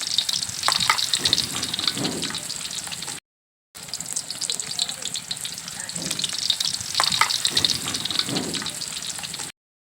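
Spices frying in a pan with yogurt and ground cumin: a steady, close sizzle with stirring scrapes, broken by a brief silent gap, with no talk.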